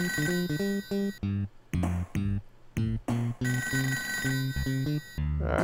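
A ringing telephone in a Sega Genesis video game, its electronic ring heard in short repeated bursts over a steady chiptune music bed, loud and close with no talking.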